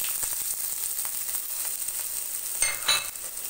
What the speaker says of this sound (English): Now let's add onion to the oil